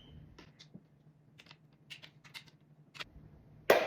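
Tech Deck packaging being struggled with: scattered plastic clicks, crinkles and taps in a quiet room, ending with a sharp louder snap or tear.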